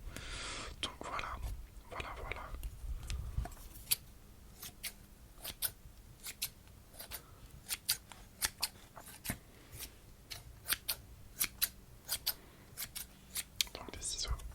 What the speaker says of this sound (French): Donc des ciseaux de tissu